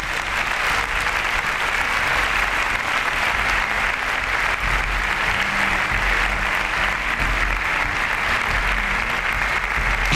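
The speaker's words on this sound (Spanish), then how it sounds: "Demos un aplauso a nuestro Señor." Congregation applauding during a church service, a loud, sustained roar of many hands clapping that stays dense and even for about ten seconds, with faint crowd voices mixed in.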